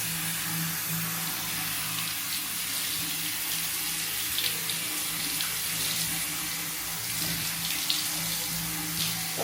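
Tap water running steadily from a faucet while washing hair at home, a continuous close hiss and splash with small irregular spatters, no talking.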